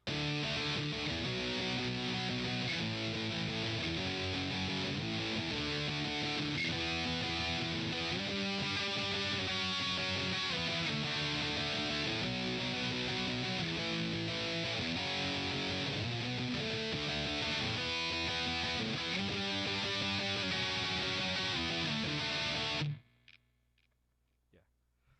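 An electric guitar plays a riff with a distorted tone, a sustained run of repeated riff phrases that cuts off abruptly near the end.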